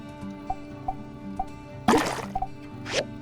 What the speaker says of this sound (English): Let's just drop in more water.